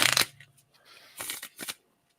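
A deck of cards is shuffled in a few quick riffling bursts, close and crisp, separated by short pauses and ending in quiet.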